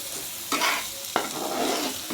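A spice paste of coriander, cumin and ginger-garlic fries in a pan for a Bengali rui fish kalia, a steady close sizzle broken by two sharp stirring scrapes, with no talk.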